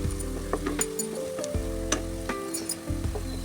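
Curry leaves sauté in a pan for Kerala inji puli, a soft steady sizzle with frequent light clinks and scrapes of a stirring utensil against the pan.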